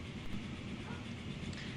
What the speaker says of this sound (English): Okay, our train is getting fully loaded.